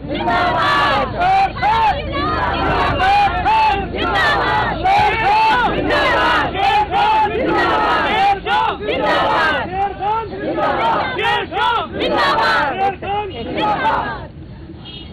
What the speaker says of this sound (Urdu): اس لیے یہ نعرے لگا رہے ہیں